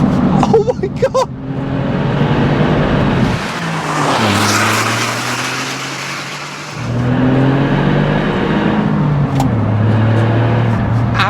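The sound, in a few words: Smart 451 Brabus car driving with remapped engine and gearbox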